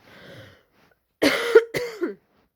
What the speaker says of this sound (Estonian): Köhimise video.